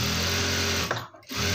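A sewing machine stitching a blouse runs in a steady, loud whir, then stops briefly near the end before starting up again.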